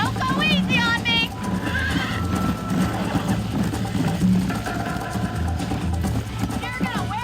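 In Red Dead Redemption, a galloping horse pounds out steady hoofbeats while loud whinnies ring out at the start and end, mixed with game sounds and talking voices.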